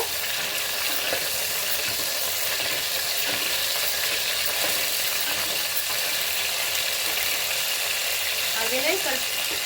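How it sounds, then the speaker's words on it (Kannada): Onions frying in a pan make a loud, continuous close-up sizzle with light stirring and scraping, and a voice can be heard faintly underneath. "ಈರುಳ್ಳಿ ಹಾಕ್ತಾ ಇದ್ದೀನಿ ಫ್ರೈ ಆಗಿದೆ"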